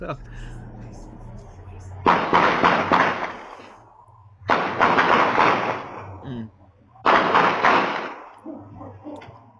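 Police officers trade gunfire with an armed suspect, three loud sustained bursts of sharp cracks and echoing blasts spread across the scene, separated by short lulls with low rumble between them.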